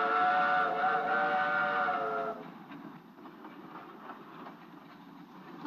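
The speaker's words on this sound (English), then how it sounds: "This train's slowing down." A passenger train on a through run gives a long, steady whistle blast, then the whistle cuts off and a softer rolling clatter of cars continues as it slows.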